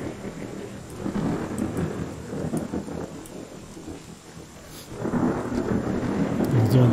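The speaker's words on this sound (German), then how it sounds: "Das Gewitter auch irgendwie gar kein Ende nimmt" A thunderstorm in the video game Journey of Life, low rolling thunder swelling and fading in long waves over a steady patter of rain, moderately loud and without voices.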